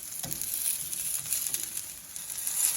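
Zucchini pan-frying in a skillet gives a steady, close hiss of crackling sizzle with a few soft shifts, running on its own with no talk over it.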